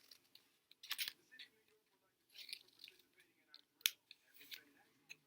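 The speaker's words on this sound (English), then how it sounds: "you're just going to keep cutting till you've run out of paper" Scissors snip through folded coloured paper in short, crisp cuts spread unevenly over several seconds, quiet and close.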